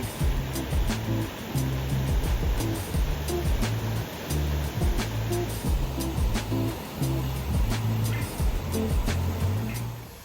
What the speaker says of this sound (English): Up to 100 surfers daily hit the waves in the city's English Garden